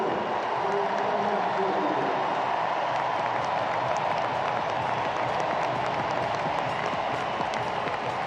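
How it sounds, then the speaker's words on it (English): A packed tennis stadium crowd at the US Open applauds Novak Djokovic, a dense, steady roar of clapping and cheering that holds throughout without letup. "listen to this crowd for Novak"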